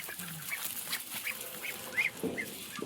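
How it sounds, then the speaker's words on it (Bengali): Large two-month-old domestic ducks in a village yard, giving scattered quacks and honking calls at low level over quiet background, with one louder call near the middle. "এই যে হাঁস বেশ বড় বড় সাইজের।"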